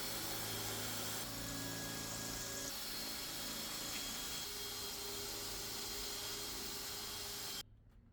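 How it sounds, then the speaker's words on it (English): A power drill whirs steadily at close range with shifting pitch, drilling holes in a wrecked car, running continuously before cutting off abruptly near the end. "Just drilling."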